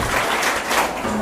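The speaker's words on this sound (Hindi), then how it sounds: "एक बार फिर से ताली होनी चाहिए अंजलि के लिए।" A brief burst of audience applause, dense clapping for a quiz contestant at a school quiz event, heard close and fairly loud.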